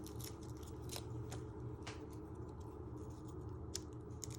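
Papery skin being peeled off a garlic clove with its ends trimmed, giving faint, scattered crackles and ticks over a low, steady room hum.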